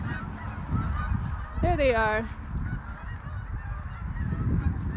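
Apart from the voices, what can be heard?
birds calling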